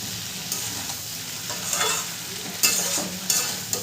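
Young jackfruit is stirred and fried with cashew paste in a hot pan: a steady sizzle broken by several louder scraping stirs.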